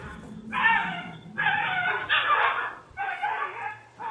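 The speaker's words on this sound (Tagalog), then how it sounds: "Maririnig ang iyak ng asong si Kobe" A dog named Kobe, injured after being abused at a compound in Valenzuela, cries and whimpers in three or four strained, high-pitched bursts, fairly close and loud over a low background rumble.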